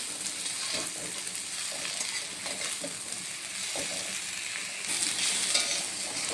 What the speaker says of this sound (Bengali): মাছ ভাজা হয়ে গেছে, এখন নিয়ে নিচ্ছি।